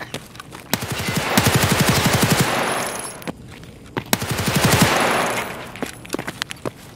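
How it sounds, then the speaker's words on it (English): Escape From Tarkov automatic fire on the Factory map, a loud rapid stream of shots in two long bursts with a short gap between, followed by scattered lighter single cracks. "Another bonus of this gun though is to stun lock Tagilla with the sheer firepower you will be sending his way."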